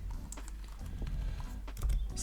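Keys clatter as a command is typed on a computer keyboard, a short close run of uneven clicks over a low background hum, with no speech.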